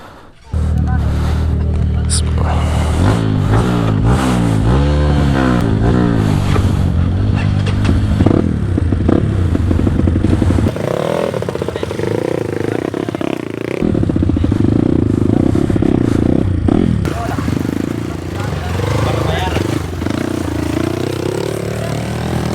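Supercross motorcycles race on a new dirt circuit in Makassar, their engines revving and rising in pitch as they pass close and loud, with clattering and scraping throughout and people talking over the noise.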